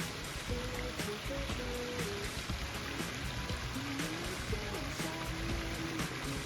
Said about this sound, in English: And then the water comes down the spillway.